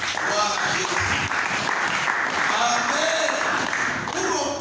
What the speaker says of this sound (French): Applaudissons notre Dieu